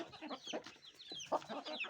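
Young roosters clucking and squawking in a busy jumble of overlapping calls, fairly faint, with no talking.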